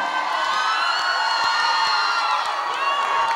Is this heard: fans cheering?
yes